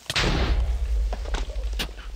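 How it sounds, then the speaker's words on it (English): A creeper explodes in Minecraft multiplayer: one sudden loud boom with a long rumbling tail, followed by a few dull thumps, close and filling the short clip with no talk. "I got far enough away from the explosion"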